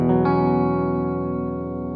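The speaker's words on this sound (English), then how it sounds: "This is called a chord." A single chord, several notes struck together on an electronic instrument with chorus-like effects, ringing out loud and sustained and slowly fading over two seconds.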